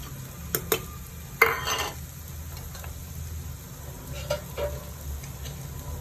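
Onions sautéing in a pan for stuffed egg bajji give a low steady sizzle, with a few sharp scrapes and clinks of a utensil stirring them, one stronger burst of stirring near the middle.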